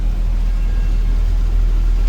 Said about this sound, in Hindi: तो ये भैया अभी गाड़ी को बैक कर रहे हैं